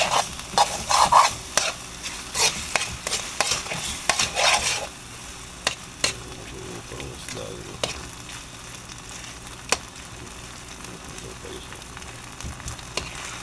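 Eggplant fries in a pan with an ongoing sizzle, busy with clattering stirs and utensil knocks at first, then settling into a quieter, steady crackle broken by occasional sharp taps.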